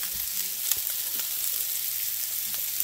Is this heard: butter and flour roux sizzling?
yes